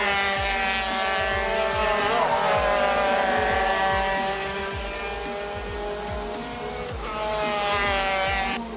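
Race cars pass one after another on a track mid-lap, their engines loud and close, roaring steadily with rising and falling pitch as each car goes by.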